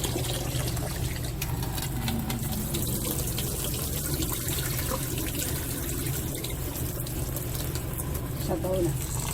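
Rice for puto maya, a steamed sticky rice dish, is washed for the third time in water, a continuous close sloshing and trickling with a running tap under it, while a person talks over the sound.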